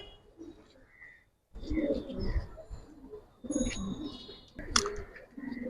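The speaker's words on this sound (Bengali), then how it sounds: "কবুতর হেমার কবুতর" Homer pigeons at a pigeon farm coo in soft, repeated bursts, fairly close, with a few chirps and scattered background voices between the calls.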